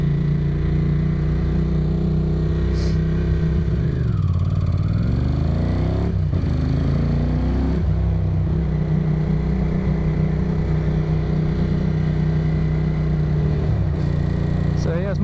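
A Ducati Monster M600 motorcycle engine warms up close by, a steady loud idle with a few rising revs, running throughout.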